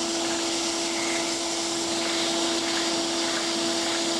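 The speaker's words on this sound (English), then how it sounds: "As I pull the vacuum hose away from the opening, I'm reducing the vacuum strength." A vacuum hose drives a Lego beam engine, giving a steady, fairly loud whooshing suction drone with a constant tonal whine running evenly through, and no speech.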